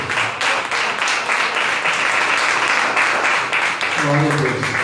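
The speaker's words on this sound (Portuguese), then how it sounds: "Aplauda o Senhor Jesus" A church congregation claps and cheers continuously at close range, a dense, steady wash of applause, with a voice briefly rising above it near the end.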